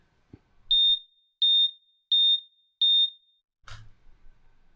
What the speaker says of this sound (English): that damn smoke detector